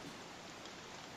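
Steady rain falls in the video game Don't Starve, a constant soft hiss of drops through the whole moment, with no voices.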